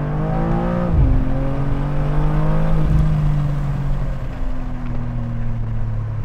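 A BMW M2 G87 with an aftermarket exhaust system drones steadily up close, its deep tone rising with a quick rev near the start and then holding a smooth, even rumble.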